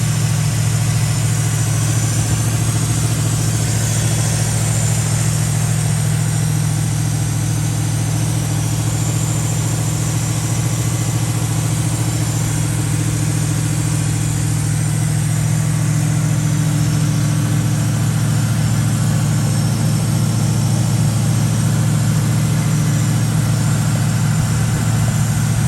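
A 1972 Chevrolet Nova engine idles loud and close, a steady low rumble with a constant hum, unbroken for about twenty-five seconds.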